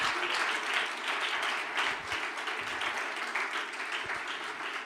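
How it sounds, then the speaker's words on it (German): Congregation applauding during a church service, sustained lively clapping from many hands in a room, loud and even throughout with a few isolated low thumps. "Ein Applaus für Jesus."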